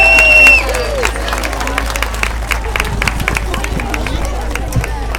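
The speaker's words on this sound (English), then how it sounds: "Give yourselves a round of applause" Crowd at a charity Race for Life run at Newbridge Fields, Bridgend, giving scattered applause and outdoor chatter after a PA announcement tone, with a broad open-air hubbub continuing beneath.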